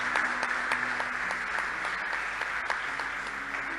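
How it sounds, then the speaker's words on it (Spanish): A church congregation claps together in sustained, even applause that fills the space at moderate volume from start to finish. "Denle un aplauso a Jesús."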